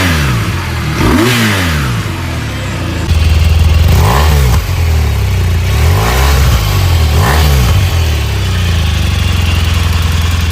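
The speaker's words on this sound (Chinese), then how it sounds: "先听一下这一代发动机声浪，" BMW R1250RT touring motorcycle with a liquid- and air-cooled 1254cc engine, idling and then blipped several times, each rev rising and falling in a loud, close exhaust note with no talking.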